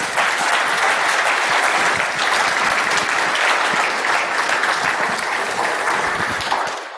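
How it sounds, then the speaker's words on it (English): A conference audience breaks into loud, sustained applause, dense clapping filling the room evenly for several seconds before tapering off at the very end. "So please give a lot of applause to them now."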